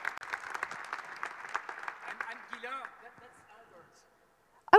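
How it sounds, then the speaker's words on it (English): Audience applause at the AUTOBEST 2019 awards gala in Brussels, a hall of steady clapping that gradually thins and fades to near silence, followed by a brief loud burst at the very end. "Would you please give a very warm round of applause to Albert?"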